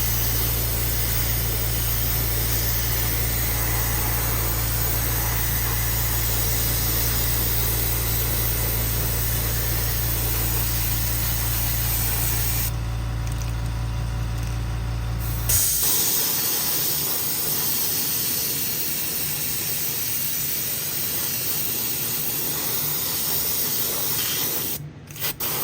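Continuous hiss of an airbrush spraying a wet coat of paint onto a fishing lure, steady and close over a low fan hum that cuts off partway, the spray running nearly unbroken with one short pause.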